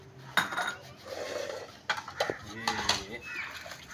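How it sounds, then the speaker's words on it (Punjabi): Dishes are washed with soap at home: pots and utensils clatter and clink in scattered bursts, with sharp knocks between softer scrubbing, and people talk over the sounds. "ਉਹ ਹੁਣੇ ਧੋਣੇ ਨੇ ਭਾਂਡੇ"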